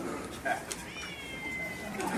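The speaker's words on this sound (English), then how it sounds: "A little cat." A small cat named Lemix meows in a thin, rising cry at close range, with a short sustained call partway through, while people talk softly in the room.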